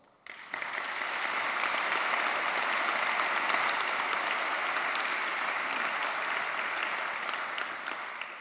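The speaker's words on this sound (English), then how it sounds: "Would you please be so kind to give all these people a big round of applause?" A concert-hall audience applauds a speaker at a festival event, a dense sustained wash of clapping that rises quickly and holds steady for several seconds before tapering slightly at the end, with no voices.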